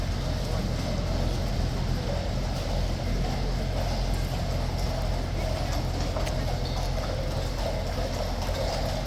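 Horses arrive, their hooves clip-clopping in a continuous rhythm, muffled and moderately distant beneath a steady mechanical hum.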